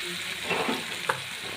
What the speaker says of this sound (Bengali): এবার এর মধ্যে দিয়ে দেব 1 চামচ আদা রসুনের পেস্ট।